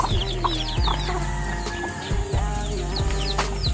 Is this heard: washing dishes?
no